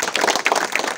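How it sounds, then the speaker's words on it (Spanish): Brief burst of audience applause at a public event in a municipality, many hands clapping in a continuous, moderately loud patter. "Un fuerte aplauso, por favor."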